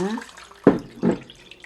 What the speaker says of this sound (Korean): 샤워하고 나서 찬물로도 한번 이렇게 한번 이렇게 부어주겠습니다